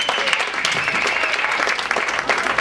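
Audience at a bar mitzvah applauding a ventriloquist act, a dense steady wash of many hands clapping at once, loud and sustained through the whole stretch with no voices standing out.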